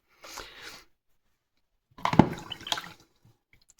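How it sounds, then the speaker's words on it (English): A watercolour paintbrush swished and rinsed in a pot of water, two short close splashy bursts separated by silence, with faint drips afterward. "If you rinse your brush off, dab it off"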